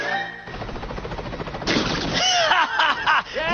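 Cartoon gunfire from police in an Oggy and the Cockroaches animated film, a brief burst of rapid shots that follows a sharp cry and runs into squeaky, whooshing cartoon effects.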